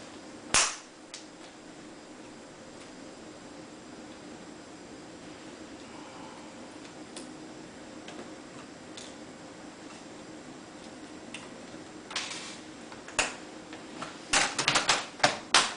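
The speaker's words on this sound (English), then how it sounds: "we need to just click everything together again" Plastic cover of a Toshiba L655 laptop snapped back into place by hand, scattered sharp clicks with long quiet gaps, then a quick cluster of loud snaps toward the end.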